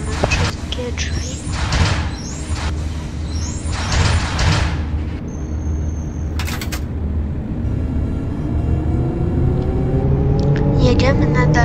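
Bus doors closing in a Roblox bus simulator at the Międzylesie stop, a hissing pneumatic burst with a brief high tone mixed into steady engine rumble, while someone narrates throughout.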